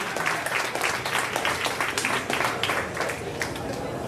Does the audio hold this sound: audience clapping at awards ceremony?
yes